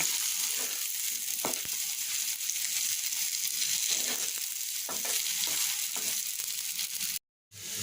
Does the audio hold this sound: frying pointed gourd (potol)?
yes